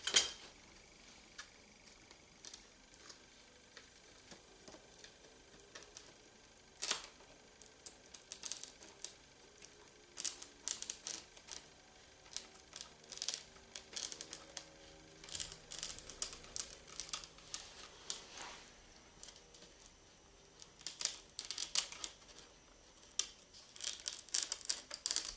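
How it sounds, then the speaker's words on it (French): Scissors slowly trim excess mosquito-net mesh on a custom-made screen, giving scattered soft snips and crinkles spread irregularly over about twenty-five seconds, close by in a quiet room with no talking. "je vais couper très doucement l'excédent de filet."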